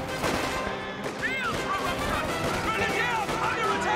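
Game gunfire and explosions from Company of Heroes 2 on a snowy winter map crackle in dense bursts, with someone talking over the battle noise throughout.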